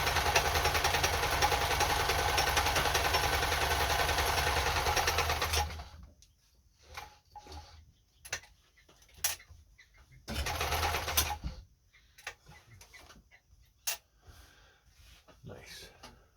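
A Kenmore 10 Stitch sewing machine runs a blind stitch in a loud, continuous whirring burst of about six seconds, then stops. A shorter run follows, with scattered handling clicks and faint talk around it.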